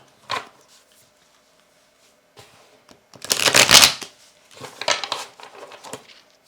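A deck of tarot cards shuffled in several quick riffling bursts with short pauses between, close and fairly loud.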